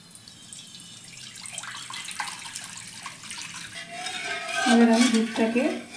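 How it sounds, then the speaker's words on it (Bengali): Milk being stirred in a kadai, a spoon scraping and clinking against the metal pan with liquid swishing, growing louder and busier toward the end, with no talking. "এবার আমি কড়াইয়ের মধ্যে দুধ গুলে নেব।"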